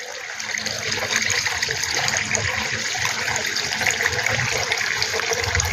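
Water sloshing and splashing in a goldfish tank as someone tries to catch the fish by hand, a steady, loud, close wash of water that runs the whole time.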